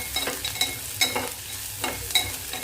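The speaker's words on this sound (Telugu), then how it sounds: "చూడండి, ఉల్లిపాయ అయితే వేగుతుంది." Chopped onion fries in a pan with a steady close sizzle, broken by periodic scraping stirs, and no voices.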